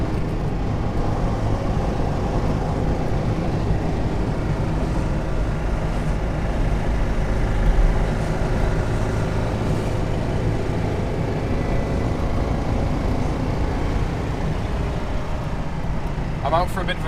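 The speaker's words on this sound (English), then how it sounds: "I'm out for a bit of a drive today." A car drives steadily along a scenic country road in Limousin, France, a constant interior road and engine drone with wind, while someone speaks over it.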